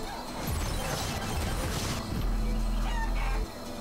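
Chicken clucking and rooster crowing in the video game Guacamelee, short bird calls over busy game sound effects and a crash, fairly loud, with no talk.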